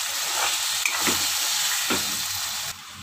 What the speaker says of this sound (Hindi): फ्राई करेंगे हम।